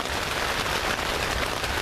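Steady, heavy rain pours down on a campsite on a summer day, a dense continuous hiss drumming on surfaces, loud and unbroken with no voices.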